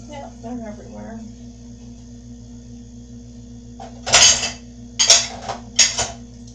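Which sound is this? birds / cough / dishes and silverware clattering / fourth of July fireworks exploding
dishes and silverware clattering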